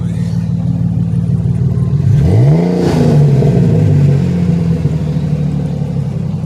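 A Mopar Magnum car engine idles with a deep rumble, then revs sharply, rising in pitch and falling back as a rev governor caps it, before settling into a steady idle, loud and close with no talking.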